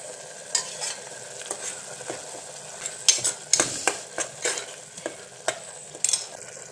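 Onions fry with ginger-garlic paste in a pan for a chickpea curry. A spoon stirs with repeated scraping strokes over a close, steady sizzle, and no one speaks.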